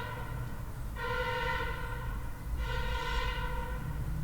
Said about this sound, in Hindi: my God, disturbing horn